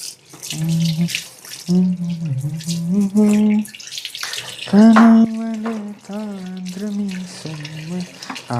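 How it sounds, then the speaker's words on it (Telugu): A tap runs steadily into a sink as an aquarium cleaning pipe is rinsed under the stream. The water rushes continuously beneath someone talking over it. "సో ఫస్ట్ ఈ పైప్ని పైన కడుక్కోవాలన్నమాట. సో ఒకసారి కడిగేద్దాం రండి."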